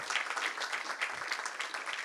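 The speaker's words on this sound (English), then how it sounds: "So round of applause to Ishta as well." Short burst of applause from a group honoring a team member after a competition result, dense steady clapping throughout with no voices.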